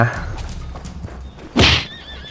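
A horse in the Roblox medieval war game Bleeding Blades whinnies close by in a loud burst, with faint hoof clatter and low rumble around it and no talk.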